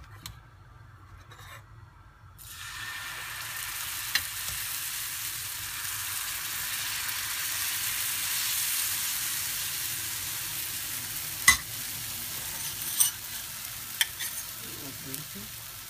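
Besan flour adai frying on a hot tawa in oil and ghee, a steady soft sizzle and hiss that rises after a quiet start, with a few faint scraping clicks over it.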